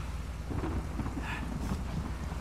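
Thunderstorm with rain in the video game Uncharted 4, a steady low rumble and wash of rainfall running through the short stretch without a clear thunder crack.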